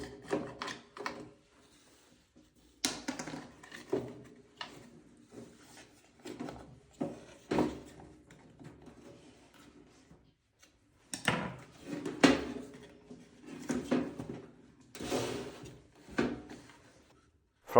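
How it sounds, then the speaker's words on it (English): A low-budget heater's thermostat clicks on and off, producing a series of quiet, sharp, irregularly spaced clicks and knocks that come in small clusters separated by near silence. "From the sound, it is obvious that the thermostat turns on and off at a certain temperature."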